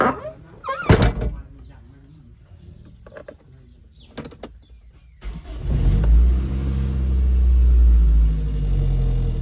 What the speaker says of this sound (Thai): สตาร์ตติดฮะ สตาร์ตติด นะ ฟิตสตาร์ติดง่าย